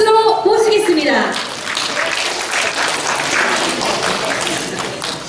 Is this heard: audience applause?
yes